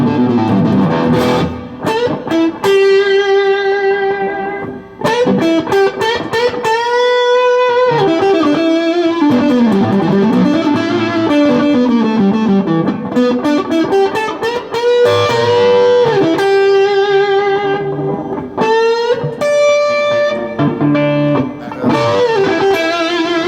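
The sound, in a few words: distorted electric guitar with reverb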